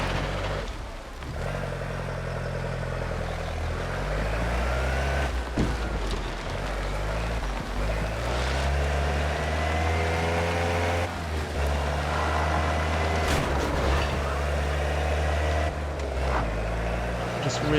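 A car drives in Mafia: The Old Country, its engine a steady mid-level drone with pitch rising and falling through gear changes, sustained throughout with someone talking over it.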